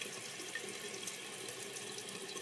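Water rushes steadily from a Fluidmaster 400A toilet fill valve as the tank refills, a constant close hiss with no pauses and no voices.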